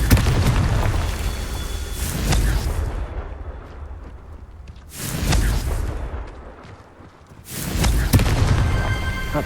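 Three heavy Confringo fire-spell explosions in Hogwarts Legacy boom out at regular intervals, each a loud broadband burst with a crackling, rumbling decay that sinks back into a low background roar before the next blast.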